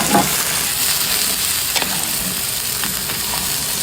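An egg goes into a boiling pot for a wild bitter gourd dish, with a steady close bubbling sizzle and a few soft clinks and stirs.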